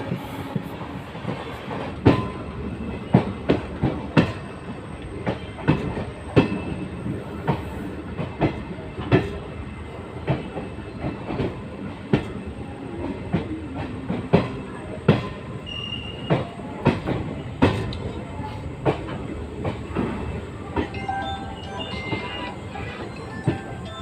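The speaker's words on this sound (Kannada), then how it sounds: "7:58ಕ್ಕೆ ಬರಬೇಕಾಗಿರೋ ಟ್ರೈನು 7:30ಕ್ಕೆ ಬರ್ತಿದೆ ತಿಪ್ಟೂರು ರೈಲ್ವೆ ಸ್ಟೇಷನ್ಗೆ" A train rolls into Tiptur railway station, wheels clacking rhythmically over rail joints in a steady series of sharp knocks, with faint squeals as it moves along the platform.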